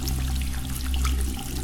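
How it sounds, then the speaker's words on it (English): Steady, continuous rush of shower water running in a video game, an even hiss with no voices over it. "I'm just taking a shower."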